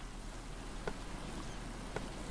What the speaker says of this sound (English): and it starts raining as well.